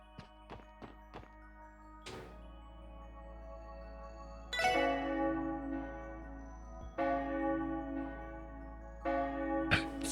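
Church bells ring out in the video game Trails to Azure at a wedding, with several soft tolls at first and then three loud, resonant peals whose long ringing tails overlap as each one decays.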